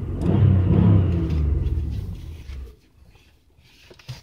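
Modified 2001 Buick Century engine revving hard toward its rev limiter, a loud roaring rev that holds, then drops away to quiet idle with a small blip near the end.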